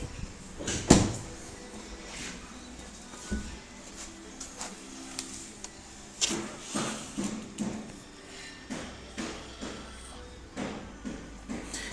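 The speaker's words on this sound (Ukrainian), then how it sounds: "управління жалюзі вентилятора, роблю старт" Radiator fan shutters on a Skoda 2.0 TDI actuating, giving a run of dry mechanical clacks and soft thumps that repeat irregularly at close range, with no talking.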